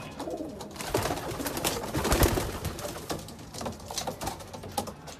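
Racing pigeons coo inside a loft, with soft, repeated throaty calls alongside fluttering and shuffling, steady and close for several seconds.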